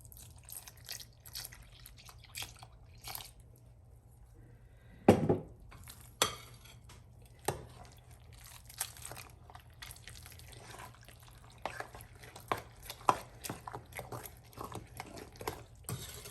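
Pumpkin baked oatmeal is stirred with milk in a bowl, giving quiet intermittent clinks and scrapes of a utensil against the dish over soft wet sloshing, close but faint, with no talking.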